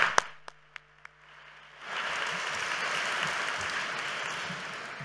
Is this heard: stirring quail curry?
no